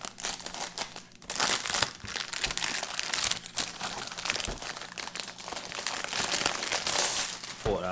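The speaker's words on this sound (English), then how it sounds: "let's go ahead and cut the plastic off of this thing" Plastic packaging is cut and pulled away from a French RCIR MRE ration, producing continuous close crinkling and crackling with small tearing snaps throughout.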